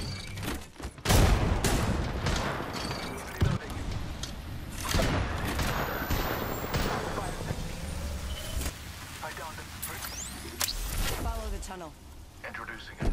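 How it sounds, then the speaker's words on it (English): Gunfire from a shooter video game rings out in bursts of repeated shots with booming blasts, loud and close, while a voice talks over the action. "This getting shot at."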